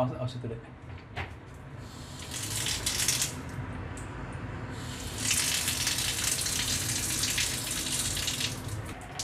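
Tap water pours and gushes into a plug-in floor drain fitted with an anti-odour, anti-cockroach strainer, a steady close rush of running water with someone speaking over it.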